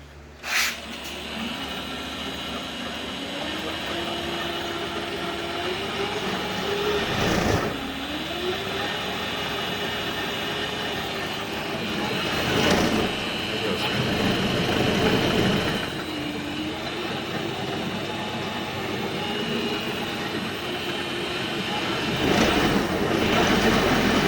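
The 3000-watt, 60-volt brushless electric motor of a converted Troy-Bilt ride-on mower spins on low speed, giving a steady whine with a wavering tone and periodic swells, close by and with no talk.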